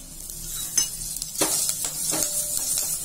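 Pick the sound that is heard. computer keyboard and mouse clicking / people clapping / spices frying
spices frying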